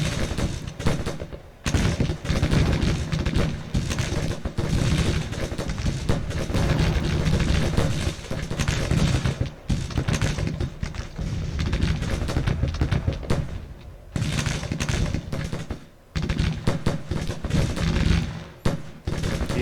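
Artillery and rifle fire from the Grand Tactician Civil War video game rumble almost without pause, dense overlapping booms and crackling volleys with a few brief lulls, loud and sustained.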